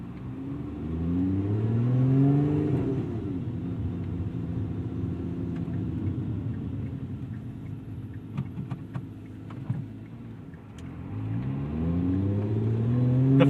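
A sports car engine, heard from the cabin, revs up in rising sweeps, settles to a steady drone with a few clicks, then climbs again as the exhaust valve opens.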